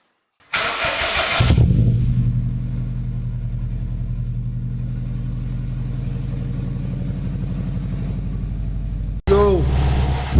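Subaru WRX with an EJ25 engine and an exhaust cut valve starts with a loud crank and bark, settles into a deep, burbling idle for several seconds, then gets a sharp blip of revs at the end.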